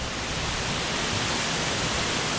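Water pours and crashes at the base of a hidden waterfall in Himachal, a dense, steady roaring rush with no breaks, close and loud.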